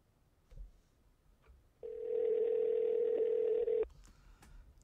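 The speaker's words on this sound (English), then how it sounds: "I'm going to call you from my real phone." A phone line gives a steady dial tone for about two seconds while a call is placed from a mobile phone, with faint clicks before and after and no talking.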